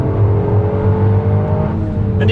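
A Toyota GR Yaris engine pulls hard out of a corner, a loud, close, droning rev that holds steady for about two seconds with a slight rise near the end.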